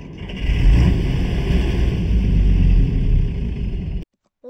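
An engine started cold in snowy weather revs loudly and steadily as the throttle is held open for about four seconds, then cuts out abruptly.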